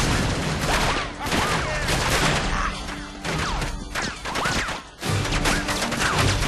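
Dense, loud bursts of automatic gunfire and explosions in the Uncharted 3: Drake's Deception video game, near-continuous volleys with brief lulls, voices talking underneath.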